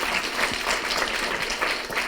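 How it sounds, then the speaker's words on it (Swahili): Steady applause from a crowd at an outdoor meeting at Ngong Racecourse, Kenya, a dense wash of many hands clapping at once, moderately loud and continuous throughout. "Tupigie makofi."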